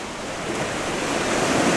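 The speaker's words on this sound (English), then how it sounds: "The waves are crashing up quite high." Waves surge and crash against coastal rocks in a steady, rolling roar that builds slightly over time, loud and close with wind noise mixed in, no voices.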